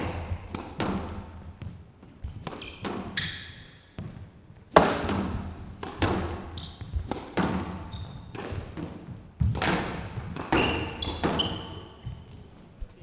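Squash ball struck back and forth during a rally at the Hong Kong Open, with sharp racket hits and wall thuds in an irregular rhythm, the court reverberating around repeated strikes and squeaking shoes.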